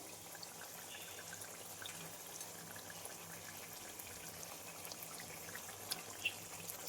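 Water is poured into a pan of fish curry with fried tomatoes and rohu fish pieces, a faint, steady trickling hiss in a quiet kitchen.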